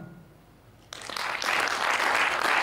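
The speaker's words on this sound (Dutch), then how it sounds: "Applaus voor Hans en Veronique van Allemans Café, Bistro en Terras" Audience applause for Hans and Veronique of Allemans Café, Bistro en Terras at a starter-of-the-year award event in Venray, erupting suddenly after a quiet moment and building into steady, loud clapping.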